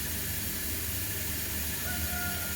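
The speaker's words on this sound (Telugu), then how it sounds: "సో చూసారు కదా ఉల్లిపాయలు, టమాటాలు ఎలా మగ్గుతున్నాయో" Onions and tomatoes softening in a pan, a faint steady hiss of gentle cooking with no distinct stirs.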